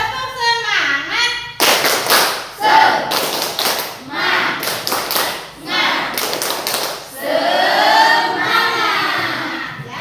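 A school class performs the 'tepuk semangat' chant, bursts of loud rhythmic group clapping alternating with the teacher's voice and children's shouted responses.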